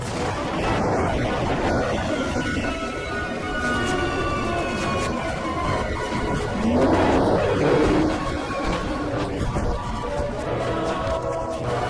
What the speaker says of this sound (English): Hundreds of surviving Alamosaurus are bombarded from above.